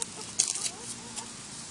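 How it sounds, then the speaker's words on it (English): Backyard chickens clucking in short, soft bursts against outdoor background noise, a few quick clucks close together, then a faint one after a pause. "Oh, you almost caught yourself a chicken."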